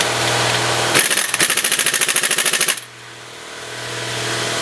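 Electric impact wrench working on a Viking IV clutch and tracks, a loud rapid hammering rattle of about two seconds that cuts in over a steady motor hum and then stops.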